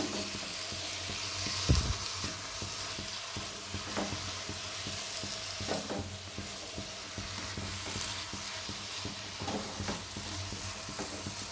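Banana flower sautéing in a pan gives a steady, soft sizzle with faint stirring scrapes throughout, close and unaccompanied by talk.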